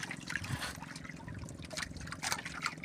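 Water pours and trickles in a steady, moderately loud stream with small splashy bursts throughout, and no voices alongside it.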